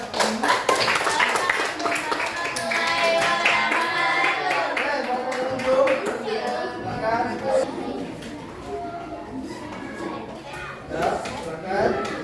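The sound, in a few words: audience applause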